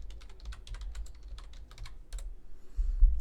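Rapid, uneven clicking of fingers typing on a computer keyboard, close and fairly quiet, with a thump near the end and no voices.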